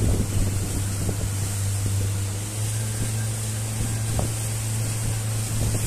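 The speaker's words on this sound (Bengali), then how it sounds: "পাত্রাতু লেকে বোটিং চলছে" A speedboat motoring across Patratu Dam lake in Jharkhand, a steady engine drone with wind buffeting the microphone and water rushing along the hull.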